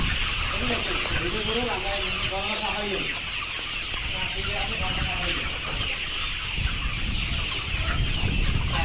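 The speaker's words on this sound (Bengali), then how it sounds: "তো সবাই মুরগি ধরছে।" Layer chickens at a poultry farm in Kushtia cluck and squawk in a busy, continuous chorus while being caught for sale, with people talking throughout amid farmyard bustle.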